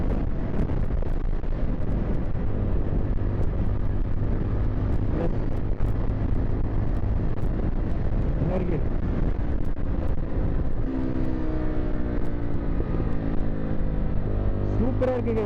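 A 2025 Jawa FJ motorcycle engine drones steadily while being ridden, buried in heavy wind rush; the engine note climbs in pitch toward the end as the revs build.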